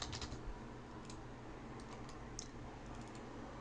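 Computer keyboard typing sounds in a quiet room while editing a melee combat Blueprint in Unreal Engine 4, with soft, scattered key clicks over a steady low background hum.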